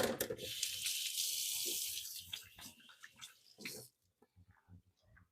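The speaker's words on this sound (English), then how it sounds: "I give my hands a quick rinse." Hands get a quick rinse under a running kitchen tap, a close, splashy gush of water for about four seconds, then the tap stops and a few faint drips and handling sounds follow.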